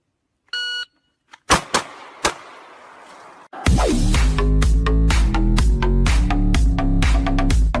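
A kitchen timer in an IKEA store sets off a short burst of electronic beeps, followed by a few sharp knocks, then loud music with a steady pounding beat takes over.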